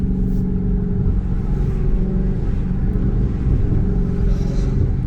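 Exhaust of a Dodge Charger Redeye, a deep, continuous rumble from a big engine heard from the car with the back window slightly open. It holds fairly steady and loud with only slight rises, and no one speaks.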